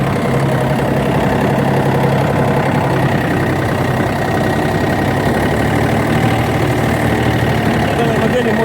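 A Yanmar AF-322 mini tractor engine idles steadily up close, a constant low rumble with a faint mechanical knock running throughout.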